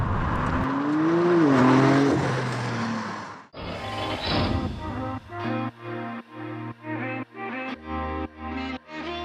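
A Porsche 911 Turbo S engine drones loudly as it drives, then a rapid series of sharp revs and shifts pulses in an even rhythm, close and clear with no talking.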